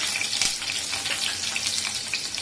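Onions, green chili and garlic fry in hot oil with splattered jeera for a pumpkin sabzi, giving a steady close hiss and crackle with scattered pops throughout and no talk.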